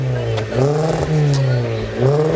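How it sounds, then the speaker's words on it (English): A car engine revs repeatedly at a JDM car meet, its deep tone rising and falling in several loud, throaty pulls close by. "My car sounds crazy loud."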